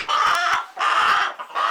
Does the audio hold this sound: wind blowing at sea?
no